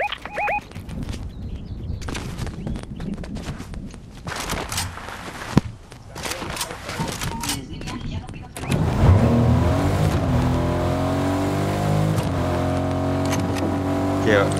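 Vehicles drive in the Fortnite video game, first as scattered clicks and bursts of action, then a loud engine drone with rising and falling revs, under ongoing talk from players.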